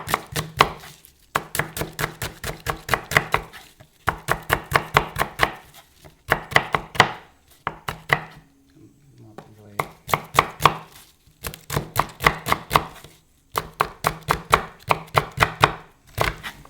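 A knife chops garlic on a cutting board in a home kitchen, making rapid, crisp, evenly spaced knocks in runs of several seconds separated by brief pauses, close up and clear.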